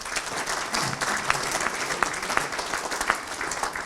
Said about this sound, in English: Probably a big round of applause for all them people.